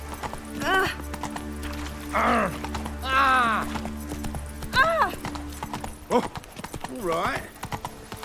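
Hooves of Roach, a horse in The Witcher 3 video game, clip-clop in a steady rhythm beneath in-game music and a voice speaking a few short words.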